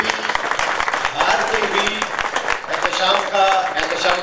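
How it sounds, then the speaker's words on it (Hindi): Audience clapping at a market association gathering, a steady burst of applause with chatter and a voice underneath. "एक पुरजोर तालियां बजाएं"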